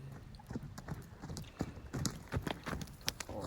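A mustang horse in training walks with a steady rhythm of clip-clopping hooves, close and moderately loud, with no talking.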